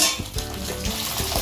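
Small pabda fish fry in hot oil, crackling and sizzling steadily, with a few sharp metallic clinks of a utensil against the pan as the pieces are turned.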